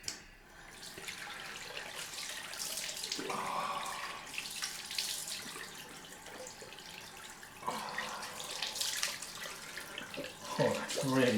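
Cold water running from a tap for a rinse at a shaving sink, a steady close splashing stream with hand-wash splashes rising and falling, continuous throughout.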